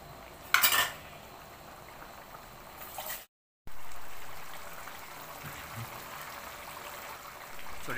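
A spoon stirs jackfruit seed curry in a pot, with a sharp metallic clink early on, then soft scraping and a low bubbling simmer after a brief gap.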